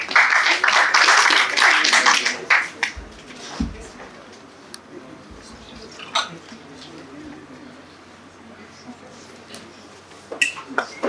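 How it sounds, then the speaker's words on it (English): An audience at a startup pitch event claps in a loud burst for about three seconds, then it drops to a few sparse, scattered claps in a quiet room. "Can we have a huge round of applause"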